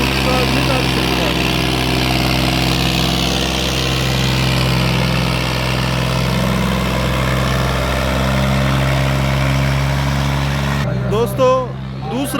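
A Highland Fired 480 tractor engine runs steadily under load while pulling a disc harrow in a field, a loud, constant low drone with an even hum throughout; it cuts off near the end as someone briefly talks.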